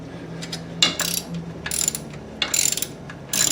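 A ratchet loosening the sway bar bracket bolts on a Jeep Wrangler during a bushing replacement, with several bursts of rapid clicking pawl strokes separated by short pauses, close and fairly loud with no talk.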